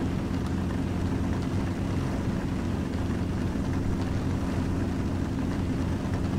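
A Cessna propeller plane's engine drones steadily on its takeoff roll from runway 2 at Kennedy Memorial in Flight Simulator X, a loud, even, low hum with no breaks or voices.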